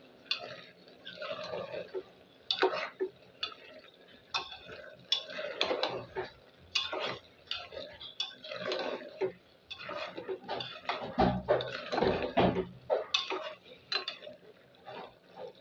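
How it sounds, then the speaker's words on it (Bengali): Food fries in a pan while a utensil stirs it, producing repeated irregular metallic scrapes and clanks against the pan over a faint sizzle, close by and with no talking. "এই যে বটটা ভাজা ভাজা করতেছি।"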